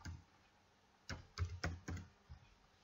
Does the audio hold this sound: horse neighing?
no